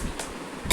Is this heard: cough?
yes